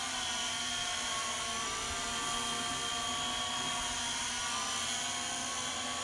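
A Syma X8C quadcopter drone hovers steadily in normal flight mode outdoors, its rotors giving a continuous high buzzing whine at an even level throughout, with no talk.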